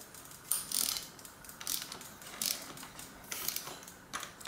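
A wrench ratchets as it tightens a square taper bottom bracket into a bicycle frame, giving bursts of rapid clicking pawl sounds in short repeated strokes, close and fairly quiet.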